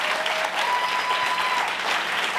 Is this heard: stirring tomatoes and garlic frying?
no